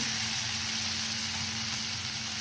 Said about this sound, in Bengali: পেঁয়াজটা আমরা সুন্দরভাবে ভেজে নেব। তো বন্ধুরা এর মধ্যে আমরা টমেটো কুচি দিয়ে দেবো